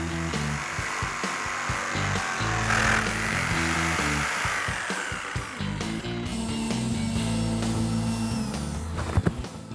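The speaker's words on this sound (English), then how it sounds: "We're going to grab the jigsaw and cut them out." Jigsaw cutting curved shapes in wood for a homemade bowling lane, a steady buzzing rasp with quick chattering strokes, close and fairly loud throughout, with no talk.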